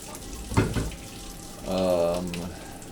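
Water runs from a tap to make coffee in a mountain hut in winter, a short close splashing gush with a brief hollow gurgle as the vessel fills, preceded by a faint knock.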